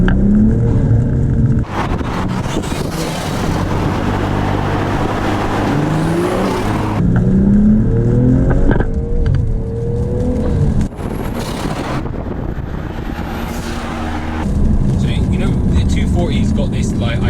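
A BMW G42 M240i engine with an MST intake revs and accelerates between 2,000 and 4,000 RPM with a rising whooshing intake sound, pitch climbing through gears, while someone talks over it.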